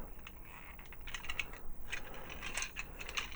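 Ratcheting thigh swivel joint on a TFC Structor Scrapper Transformers figure being turned, giving a run of small, crisp, close clicks at a steady pace, with no talking.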